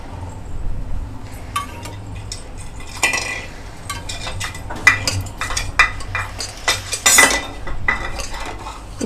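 Badusha flour dough being worked with oil in a bowl, with irregular clinks and scrapes of a spoon against the dish and soft mixing noises, close and fairly loud, no voices.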